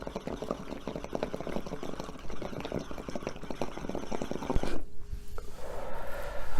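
A silicone dab rig filled with about a shot glass of water is drawn through, giving a steady close bubbling, gurgling rush that runs continuously before easing into a softer hiss and trickle.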